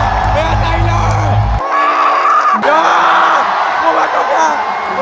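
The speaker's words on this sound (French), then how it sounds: "Je vais vous laisser avec une petite compilation de mes cris pour vous montrer à quel point j'ai vraiment kiffé ce concert" A fan at a concert in Japan screams excitedly: loud shrill yells and whoops over crowd noise, with a short lull partway through before the screaming picks up again.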